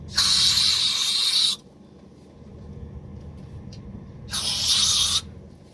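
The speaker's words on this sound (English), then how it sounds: "We'll go ahead and spray a little brake clean in here to get the shavings out of there." Two sharp bursts of brake cleaner sprayed from a can, each a loud hiss lasting over a second, separated by a quiet pause.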